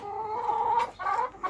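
Chickens and roosters clucking inside a poultry coop, a steady run of close, nasal fowl calls with brief breaks, no talk over them.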